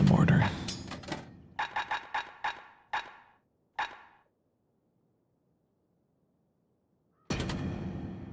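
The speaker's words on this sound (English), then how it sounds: "Let's try the mortar." A mortar weapon fires in the video game Bastion, giving a quick burst of sharp blasts followed by several spaced, punchy booms. A pause of near silence comes before another loud burst.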